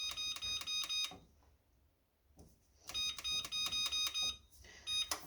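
Electronic oven control panel beeps while the bake temperature is set to 450, quick clusters of high, bright tones in two bursts separated by a short quiet gap, fairly faint and close.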